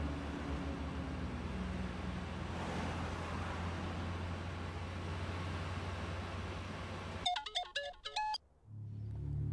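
A phone ringback tone of a few short, repeated electronic tones cuts in near the end over a steady low hum of road traffic.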